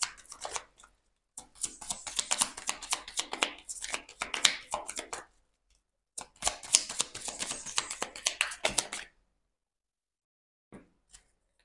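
Oracle cards shuffled by hand in two long bursts of rapid riffling and flicking, close and crisp, separated by a silent pause, with a few faint taps at the end.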